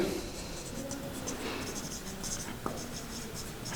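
An equation is written on a board in steady scratchy strokes, close and fairly quiet, with one sharper tap near the end and no voices.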